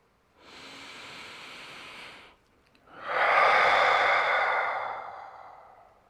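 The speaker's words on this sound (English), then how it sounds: "Big yawns and swallows are good." A person yawns twice during a nervous-system reset exercise, first a softer drawn-out breathy exhale, then a louder, longer open-mouthed yawn that fades gradually, heard close with no speech.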